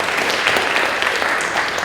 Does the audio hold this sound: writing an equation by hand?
no